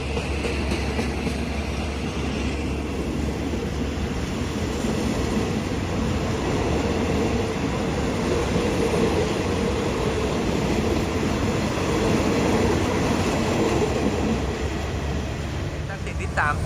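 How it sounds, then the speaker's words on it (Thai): Rapid passenger train hauled by a QSY 5211 locomotive pulling out of Ban Pong station in Thailand, a steady loud rumble of engine and rolling wagons with clatter throughout, while someone talks over it. "ทำขบวนโดย QSY 5211 นะครับ เคลื่อนขบวนออกจากสถานีบ้านโป่งนะครับ"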